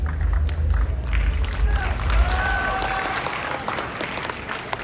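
Audience applause at a speech in Johor, a dense wash of clapping mixed with crowd murmur and some low rumble, fairly close and loud, tapering slightly toward the end.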